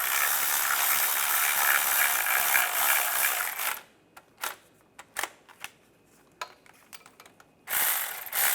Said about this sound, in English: And tighten the bolts down.